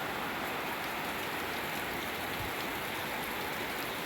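Heavy rain pours steadily during a thunderstorm in Idaho, a dense, continuous hiss of downpour on surfaces with no voices and no thunder audible.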